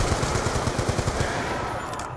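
Rapid automatic gunfire in the video game Call of Duty Black Ops II Zombies, loud and close, with evenly spaced shots that continue steadily and then taper slightly at the end.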